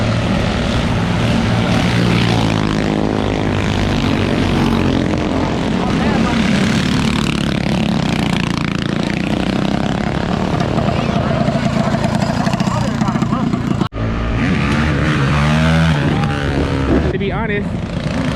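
Small minibike engines rev and drone loudly up close during a street race in Compton, a continuous buzzing roar with shifting pitch while people talk over it.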